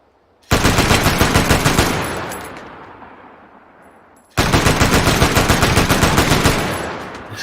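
Bursts of rapid machine gun fire in the shooter game Guns 2: Reloaded, two long loud sustained volleys separated by a brief pause, the first tailing off gradually.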